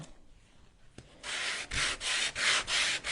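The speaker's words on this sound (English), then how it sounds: "to sand over it just lightly" Sandpaper rubs lightly across a small wooden craft house in quick back-and-forth strokes, about five rhythmic scrapes following a brief tap, close and clear with no voices.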